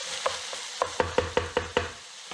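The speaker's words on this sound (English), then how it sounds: "Let me just give this a real quick stir in." Rinsed rice is stirred into stuffed pepper filling in a pot, a quick run of six or seven rhythmic scraping knocks from a spoon against the pot over light sizzling, close and without talk.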